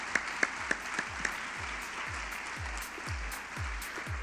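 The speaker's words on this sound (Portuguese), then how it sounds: "Podemos, por favor, recebê-los com uma salva de palmas." Audience applause greets panelists coming on stage at a liberty forum panel on education and meritocracy: a steady wash of clapping with a few sharp claps at the start and repeated low thumps running underneath.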